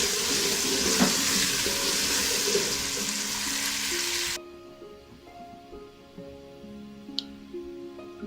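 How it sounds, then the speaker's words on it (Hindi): About 1.5 litres of lassi pours into fried masala in a pot, a broad rushing hiss for several seconds that cuts off suddenly. A quieter simmering bubble follows. "अब इसमें लस्सी शामिल करते हैं।"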